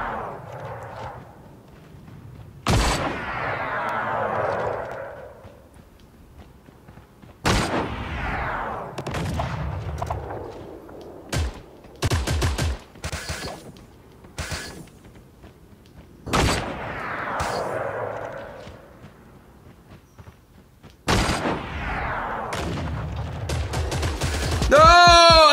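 In the mobile battle game FortCraft, a handful of loud single gunshots crack out at irregular intervals, each followed by a short echoing tail, with quieter game sounds in between.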